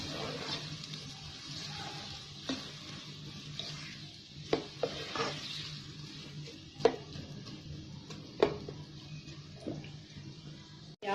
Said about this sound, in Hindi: मैंने प्याज काटी है वो डाल दूंगी। और हल्का सा इसको लाइट ब्राउन करूंगी।